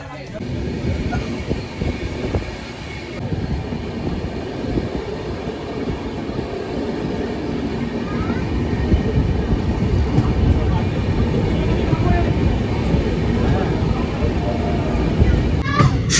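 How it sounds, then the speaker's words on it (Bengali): Steady rumble and rattle inside a moving passenger train in India, a continuous loud rolling drone that swells slightly over time, with voices in the carriage. "তো এখন আমরা ট্রেনে বসে আছি"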